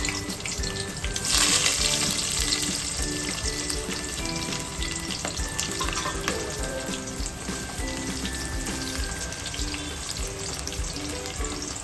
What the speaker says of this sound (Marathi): तेल टाकल्याच्या नंतर कांदे टाकले, अजून लसूण मध्ये जे आपण घेतलेलं आहे ते सगळं टाकलं